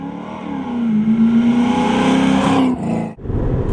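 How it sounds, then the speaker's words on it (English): A 1978 Porsche 928 cruises on a highway outside Austin, Texas: steady engine drone with a sustained tonal hum slowly rising in pitch, then a brief dip and shift near the end, heard from inside the car. "We're on a highway just outside Austin, Texas, cruising down the road."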